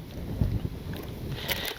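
Wind buffeting the microphone in low rumbling gusts at an RC jet flying session, with a faint steady whine and a few soft knocks.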